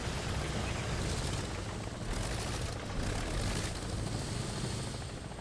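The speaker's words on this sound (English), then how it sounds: "It's also a helicopter." A helicopter in the combat video game War Thunder drones with a loud, continuous rotor-and-engine roar that holds steady and close throughout.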